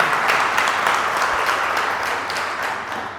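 A church congregation applauding, a dense, steady wash of clapping from many hands that carries on evenly throughout.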